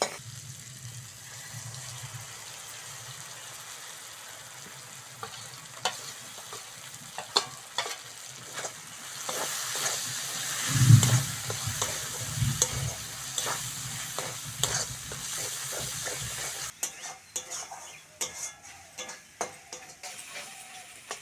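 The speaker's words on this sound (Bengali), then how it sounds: "মশলাটা ভালো করে কষে নিয়েছি" Masala mixed with poppy seed, cashew and melon seed paste fries in a pan, a steady close sizzle with frequent rhythmic scraping stirs that grow busier midway, no voices present.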